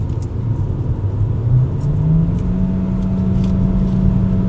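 A 2026 Proton e.MAS 7 PHEV with a 1.5L engine accelerates on a highway, its engine note rising steadily in pitch under a constant road rumble, heard from inside the cabin with no talk.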